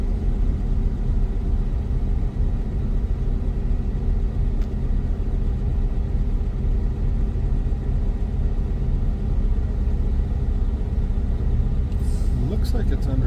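A Suzuki Samurai engine labors steadily while being towed up a climb, a loud, constant low rumble close by, with people talking over it throughout.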